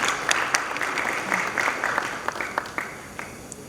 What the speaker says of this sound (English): A huge round of applause for the people at the head table.